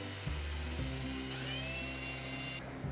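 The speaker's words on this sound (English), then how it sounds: "I'm just going to drill a hole here so it'll have a little relief and won't split that knot" A power drill bores a relief hole into wooden board right over a knot, its steady motor whine running loud and close throughout with a brief shift in pitch as the bit bites in.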